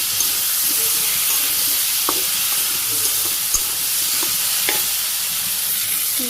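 Cauliflower and potato pieces sauté in oil that was first used for frying fish, giving a steady, close, broad sizzle with a few soft stirring knocks and no talking.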